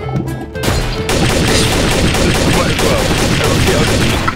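Rapid, continuous gunfire in Garry's Mod Trouble in Terrorist Town, a loud dense burst of shots that starts abruptly and keeps going without pause amid chaotic game noise.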